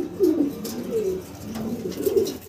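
Pigeons coo at close range, a male giving repeated low, throaty rolling calls in a steady run of about three phrases, with no voices over them.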